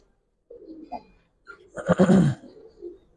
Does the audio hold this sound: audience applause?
no